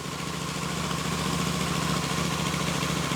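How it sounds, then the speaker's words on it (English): A Royal Enfield Super Meteor 650 motorcycle engine runs steadily at idle on a test run after a rear belt drive installation, a continuous close, even thrumming with no speech. "let's try to test run it carefully on the bike"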